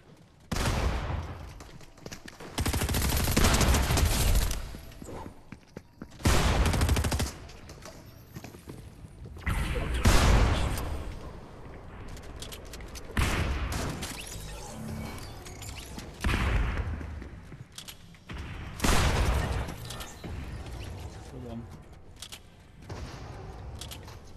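Dense bursts of video game gunfire, rapid volleys and automatic fire, come in repeated loud waves with short lulls between, mostly alone without talk.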